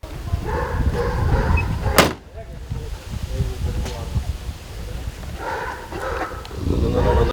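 Police service dogs bark in a few short bursts, with a sharp bang between them, mostly under steady talking.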